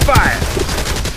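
Gunfire in the video game Farlight 84, a brief loud rapid burst mixed with game sound effects and a chirping tone.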